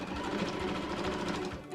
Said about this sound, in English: After pinning everything together, sew along those corners.